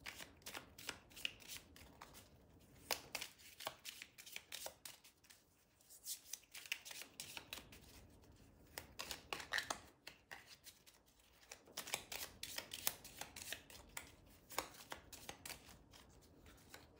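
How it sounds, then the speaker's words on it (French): Tarot or oracle cards shuffled and handled over a reading table, repeated crisp riffling bursts and soft slides in steady runs with brief pauses, close and fairly quiet. "On va recouvrir les cartes."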